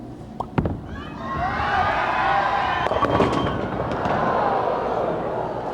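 Bowling ball crashing into the pins at a 1997 PBA Comfort Inn Classic semifinal, leaving a 3-10 split: one sharp impact near the start, then a sustained arena crowd murmur and reaction.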